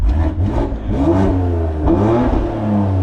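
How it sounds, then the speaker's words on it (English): A BMW X3M's exhaust is revved hard from a standstill at a roadside stop, climbing and falling through repeated loud, close engine blips with a raspy, rumbling tone. "I want to hear that exhaust"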